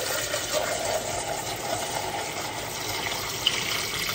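Lukewarm water pours steadily as a spray of black soap for plants is mixed, a continuous close hiss and gush with one faint click near the end, and no talking.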